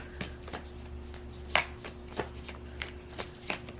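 Tarot cards are shuffled in quick riffling bursts, soft crisp snaps spaced irregularly over a low steady hum, close and fairly quiet, with no voices.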